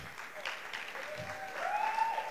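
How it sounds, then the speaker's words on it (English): Fairly quiet applause from a comedy show audience, with scattered clapping swelling slightly toward the end and some voices mixed in. "please, a round of applause"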